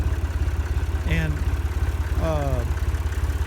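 Tractor engine, roughly 32 PTO horsepower, idling with a steady low rhythmic chug throughout, while a voice speaks briefly over it.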